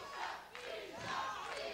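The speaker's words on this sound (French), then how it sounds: "La foule scande le nom de Bishop." Wrestling crowd chanting a wrestler's name, a rhythmic, distant-sounding roar of many voices rising and falling in repeated syllables across the arena.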